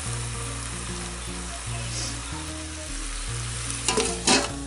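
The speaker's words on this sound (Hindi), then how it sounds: "मीट को डाल देंगे। इसे अच्छी तरीके से भूनेंगे।" Pork meat frying in a pan for a village-style pork curry, with a dense hiss of sizzling, a low steady hum underneath and a couple of louder scraping stirs near the end.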